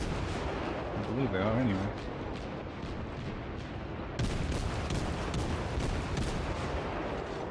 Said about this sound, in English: now we're going to continue shooting